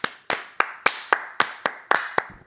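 A lone person's hand clapping comes as about eight sharp, close claps in a steady, fairly quick rhythm with nothing else behind them.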